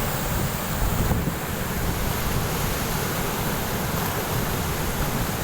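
Kuntala waterfall roars in a steady, loud, unbroken wash of rushing water, with wind buffeting the microphone throughout and no voices.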